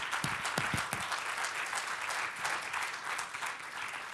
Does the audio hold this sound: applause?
yes